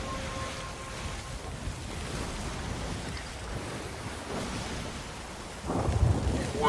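Rain hisses steadily aboard a sloop in the video game Sea of Thieves, with a rumble of thunder breaking in near the end, continuous and moderately loud with no talking.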